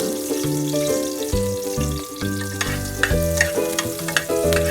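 Garlic and onions fry in a hot pan with a steady, close sizzle and occasional stirring scrapes, while music plays over the cooking.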